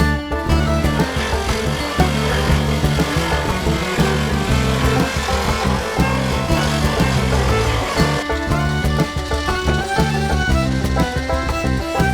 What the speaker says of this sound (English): now we've hit it with a grinder. We ground it down to a feather edge.